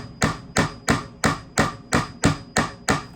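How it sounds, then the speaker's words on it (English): A hammer taps a heavy finish nail into the wooden frame of a gallery-wrapped canvas to make a starter hole: eight loud, close, evenly spaced strikes about two-fifths of a second apart, each a sharp knock with a short ring, and no talking. "tap it in to create your starter hole"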